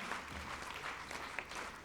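An audience at a music evening and awards night honoring Amitabh Bachchan applauds, a soft, distant wash of many clapping hands that stays even and fairly faint throughout.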